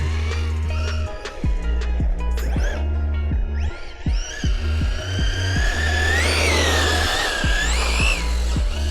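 A Mini Maxx RC car on a 3S battery runs its electric motor with a steady whine and hum, revving up and down in short bursts with pulsing throttle blips, close and loud, with no talk.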